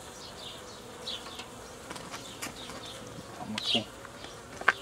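Honey bees buzzing around a freshly split colony being formed into a nucleus hive, a faint steady drone with individual insects passing near, and a brief voice near the end.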